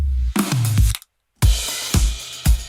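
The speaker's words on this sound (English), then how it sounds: "One of my favorite parts of this song is the drum fill," A drum fill leading into a saxophone solo in a produced song, with a few punchy hits, a sudden full dropout of about half a second, then more sharp strikes over a dense mix.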